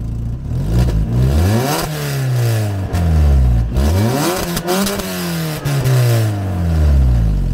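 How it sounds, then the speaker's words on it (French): Peugeot 206 with its exhaust valve closed, revved repeatedly from idle. The engine rises and falls in pitch in several loud, close sweeps with a throaty exhaust note and no talking. "c'est la sonorité sans le clapet ouvert"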